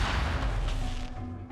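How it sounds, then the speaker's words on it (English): An explosion effect built from Serum sub-oscillator bass drops layered with explosion source material for a speaker burst in Borderlands 3, a deep booming blast that starts loud and rumbles off, alone. "using some bass drops I generated using Serum sub-oscillator and some explosion source, I made a quick explosion sound"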